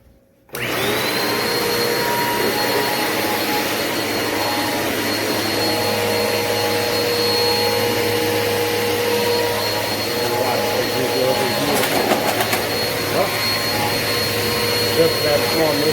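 A Eureka PowerSpeed bagless upright vacuum cleaner switches on and then runs steadily and loudly for the whole stretch, a constant motor whine with only small shifts in tone and no one speaking over it.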